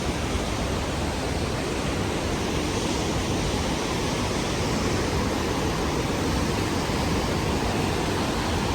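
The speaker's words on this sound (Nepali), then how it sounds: "we are in फुटफुटे Jharna" The Phutphute waterfall on the Annapurna trek in Nepal gives a steady, dense roar of rushing water, close and loud without pause, with no voices.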